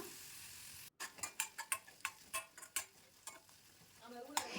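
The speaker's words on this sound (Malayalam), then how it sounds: "നല്ലതുപോലെ ഒന്ന് വഴറ്റി കൊടുക്കാം" Squid sautéed with green chili and salt in a pan for a Kerala kanava roast: a dozen sharp scraping stirs tick out in an uneven rhythm over a low sizzle, close and clear, with no voices.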